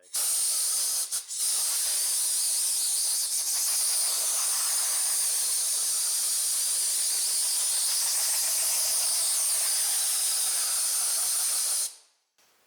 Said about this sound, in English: I'm going to use my compressed air and blow all the debris away from the filter